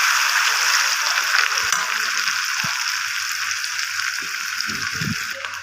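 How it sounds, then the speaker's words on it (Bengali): Chopped onion frying in hot oil with dried red chilli in a pan, making a steady, close hiss and sizzle that fades slightly over time, with a few faint knocks and no talking. "দেখুন, আমি পেঁয়াজটা তেলের উপর ভালো করে ভাজা ভাজা করে নিচ্ছি।"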